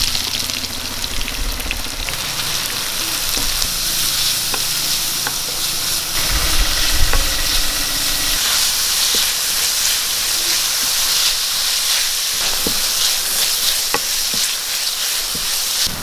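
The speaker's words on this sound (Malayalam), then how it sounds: "നമുക്ക് അരിഞ്ഞു വെച്ച സവോള ഇട്ട് കൊടുക്കാം" Chopped onion hits hot coconut oil with mustard seeds and fries in a steady, close sizzle, with scattered crackles and faint stirring clicks running throughout.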